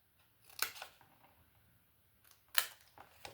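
Scissors cutting paper squares for a scrapbooking vanity project, with two separate crisp snipping cuts about two seconds apart, close and fairly quiet against a hushed room, no talking.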